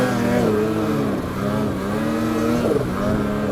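2022 Polaris Patriot Boost snowmobile climbing on hard-packed snow on light throttle, a close, steady engine drone with wavering pitch that rises slightly near the end.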